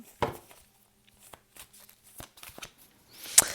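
Cards being shuffled during a card reading: soft, sporadic riffling flicks and rustles at close range, quiet overall, ending in one sharper snap.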